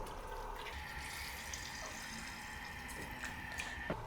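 Water pouring from a vessel over peeled carrots in a cooking pot, a steady close trickling and splashing stream that runs continuously and alone with no talk.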